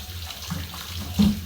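Running tap water splashes over milkfish being washed for paksiw, a soft steady trickle with a brief louder gush near the end.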